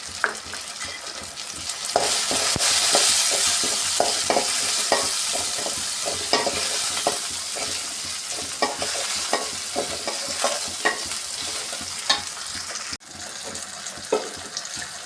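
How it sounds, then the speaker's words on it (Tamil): Chopped tomato and a dried red chilli being sautéed in a pan for Tamil keerai kootu, with a steady sizzle and repeated scraping stirs of a spoon through the mix, close and fairly loud. "ஒரு தக்காளி கட் பண்ணதையும் சேர்த்து வதக்கலாம்"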